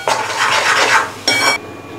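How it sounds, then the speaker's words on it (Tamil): Chana masala being stirred with spice powder in a pan, with a utensil scraping and clinking against the pan in two bursts, the second short, close and fairly loud with a faint sizzle. "நல்லா வந்து டோட்டலாக மிக்ஸ் பண்ணிக்கோங்க."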